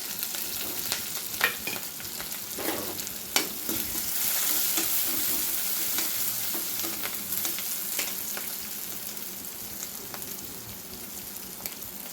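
Curry leaves, onions and green chillies fry in a pan, a steady close sizzle broken by occasional stirring scrapes and crackles, with no talk.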